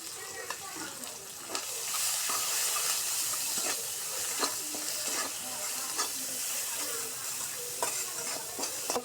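Chopped onions sizzle in hot oil with bay leaves in a pan just used for frying fish, a steady hiss broken by the scrape and clatter of stirring throughout.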